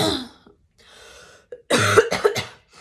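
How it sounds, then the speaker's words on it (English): A woman coughs from a lingering post-illness cough, a few harsh bursts close to the microphone following a throat clearing, with short breathy pauses between them. "I have like an on and off cough from when I was sick, and that won't go away"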